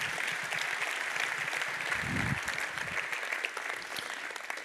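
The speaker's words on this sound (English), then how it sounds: "Give a loud applause for Lars." Steady applause from a conference audience at an opening ceremony, dense and sustained throughout, with a brief low thump partway through.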